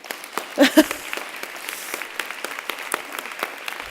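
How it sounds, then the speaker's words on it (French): Audience applause at a summit hall, a steady crackling wash of clapping throughout, moderately loud, with a brief voice rising out of it early on. "Finalement, on peut les applaudir aussi, encore plus."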